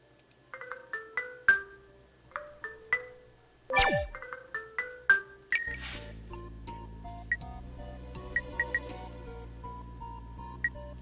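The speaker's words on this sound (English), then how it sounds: "Change the ringtone." Phone ringtones preview inside the Buried Stars video game on the Switch, a series of short chiming tone bursts and clicks, then a continuous melodic tune with higher bell-like notes, clear and close.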